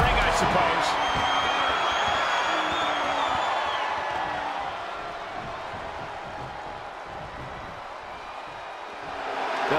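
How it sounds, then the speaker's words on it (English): Roaring arena crowd noise in the WWE 2K22 wrestling video game, a dense, loud, continuous wash of cheering that holds steady throughout, with a commentator's voice talking over it. "The sound of this crowd is deafening, and he's asking for more"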